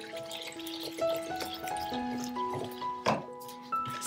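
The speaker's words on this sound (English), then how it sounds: "I will add a little bit of water to mix the two together." Water trickles and drips into flour in a mixing bowl, with soft liquid splashes and a short splash in the middle. A faint tonal background runs underneath and stays fairly quiet.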